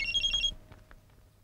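Telephone ringing in a scene from a Tamil movie: a bright electronic ring pulses several times in quick succession, then stops and leaves a quiet room hum.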